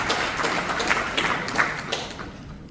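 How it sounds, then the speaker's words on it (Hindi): An audience at a Jaipur investment event with CM Mohan Yadav claps in honour of the Prime Minister. The applause is moderate and steady with distinct individual claps, then thins and fades near the end. "उनका ताली बजाकर के स्मरण करें"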